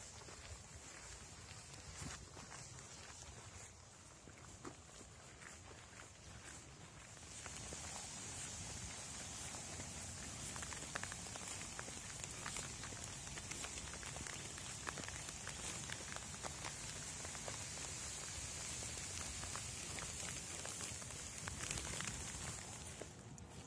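Steady rain patters on rain gear and surroundings during an outdoor walk, a continuous soft hiss that grows louder partway through, with faint footsteps underneath.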